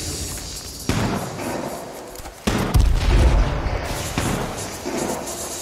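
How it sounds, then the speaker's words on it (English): Grenade blasts in the battle-royale shooter H1Z1, a couple of sudden loud booms with rumbling low-end tails amid ongoing gunfire and game noise. "Grenade out, bitch."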